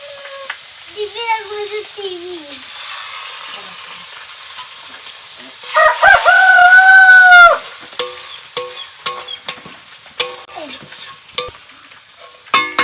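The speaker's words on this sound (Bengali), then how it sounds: "দুটো ডিম নিয়ে নিয়েছি, ডিমটাকে একটু ফেটিয়ে দিয়ে দেবো।" Two eggs are beaten for a bread chop. A quick run of light, rhythmic whisking clicks fills the second half, following a loud tonal vocal call and background voices earlier.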